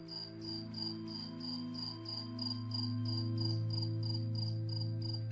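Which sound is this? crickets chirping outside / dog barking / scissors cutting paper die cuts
crickets chirping outside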